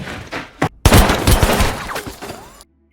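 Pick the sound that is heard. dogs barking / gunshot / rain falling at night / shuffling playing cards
gunshot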